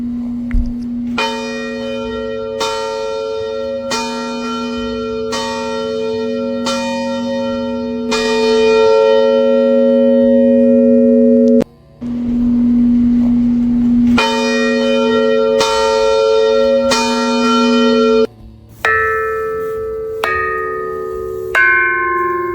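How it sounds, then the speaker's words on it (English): An untouched 138-year-old bell struck repeatedly, with long ringing tones that sustain and decay between strikes, loud and close, a few strikes in a different pitch near the end. "we have an untouched 138-year-old bell. Let's hear the healing frequencies on this."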